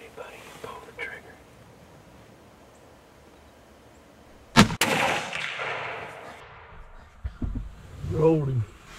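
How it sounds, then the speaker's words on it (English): A single loud rifle shot at a buck during long-range hunting on a Texas ranch, sharp and close with a rolling echo, framed by quiet whispered talk before and after. "Whenever you're ready, buddy, you pull the trigger."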